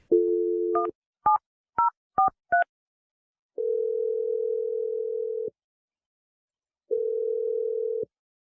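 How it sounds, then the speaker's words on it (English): A landline dial tone hums steadily, then five quick touch-tone beeps of a number being dialed, followed by two long ringback tones with a pause between them, loud and clear with no talk. "I'm going to dial the number right now."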